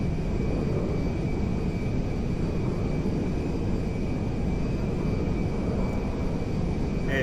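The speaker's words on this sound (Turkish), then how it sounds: "dünyanın en büyük yangın uçağı Boeing 747 tanker uçağı Türk Hava Kurumu'nun filosuna katıldı." A Boeing 747 firefighting tanker in GTA 5 flies with a steady, loud, broad engine roar that stays constant throughout, with no voices.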